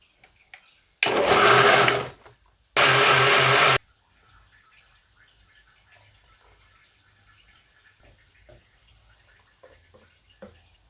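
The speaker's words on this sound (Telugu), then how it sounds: "గ్రైండ్ చేసుకుందాం." A kitchen blender grinds banana with fresh milk and sugar into juice in two loud bursts, the first about a second long and the second just after a brief pause, followed by quiet handling noises.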